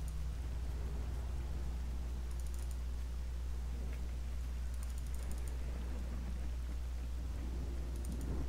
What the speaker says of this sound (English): It's been raining the whole time we've been here too.